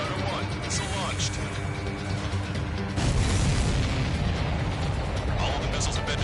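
Missiles explode in the Ace Combat 7 video game, with dense rumbling blasts and mechanical clatter and a louder burst of noise midway, under a radio voice.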